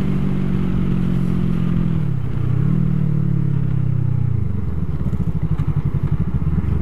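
Suzuki GW250 motorcycle engine at full throttle, a loud, close steady drone with rising and falling pitch as it revs through the gears, settling into a rapid pulsing beat near the end.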